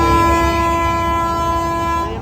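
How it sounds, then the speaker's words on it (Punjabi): A train runs behind the fairground of a nighttime religious fair, sounding a loud, sustained horn that holds one steady tone over rumbling wheels. The horn fades slightly toward the end, with no voices. "ਤੇ ਪਿੱਛੇ ਟ੍ਰੇਨਾਂ ਚੱਲਦੀਆਂ ਹੋਈਆਂ ਆ"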